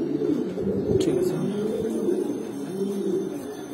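Giribaz pigeons cooing in a loft, a steady low murmur of overlapping coos close by with a few brief higher calls, no talking.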